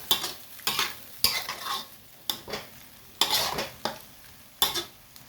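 Pork belly and lemongrass stir-fried in a pan, a run of scraping stirs with a spatula, each burst of clatter and sizzle rising and falling at an irregular rhythm, close and fairly loud, no voices.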